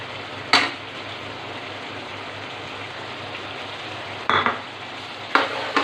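Heavy cream gets stirred into a simmering pan of mutton makhni karahi under a steady sizzling hiss, with a few sharp spoon clinks against the pot.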